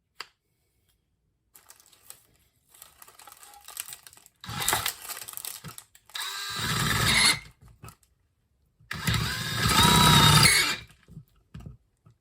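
Power drill with a 13/32 bit driving a screw while light fixtures are being installed, a few short whirring bursts between pauses, loud and close, the longest bursts near the end.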